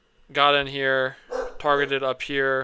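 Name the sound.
dog barking in the background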